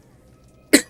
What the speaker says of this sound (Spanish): Ahí me dio tos.